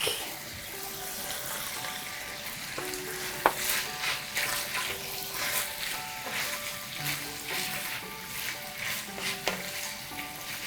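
Pork sausage and leek sizzle and fry steadily in a pan, a continuous crackling hiss with occasional stirring scrapes and a sharp clink near the middle, close and moderately loud with no talking.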